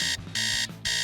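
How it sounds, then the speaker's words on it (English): A phone alarm rings in three loud, bright electronic bursts separated by brief gaps, with a faint low tone beneath. It sounds close, and no one speaks. "she didn't hear her alarm on her phone ringing"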